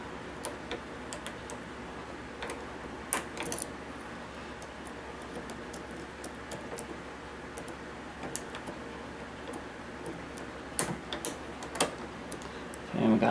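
Picking a Schlage BE365 electronic deadbolt lock: faint, sparse metallic ticks and clicks scattered over a quiet background, with a few sharper clicks late on and someone speaking quietly in the background.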